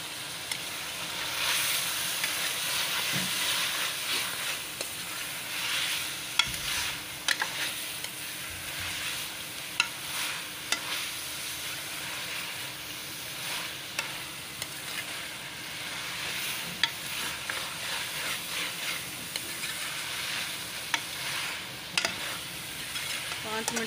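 Pre-fried chicken stirred with karela, bitter gourd, in a hot sizzling pan: a constant broad hiss of frying with scattered clicks and scrapes of a spoon throughout, close and steady, no talk.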